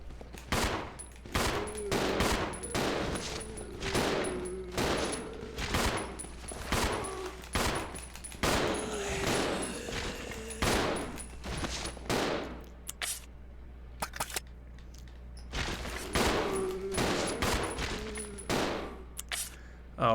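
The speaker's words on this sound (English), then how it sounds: "if we have to waste a few bullets, we have to waste a few magnum bullets" Magnum shots in the video game Resident Evil 0 ring out in a long series of heavy reports, regularly spaced at first and then more sporadic, each with a sharp crack and short tail.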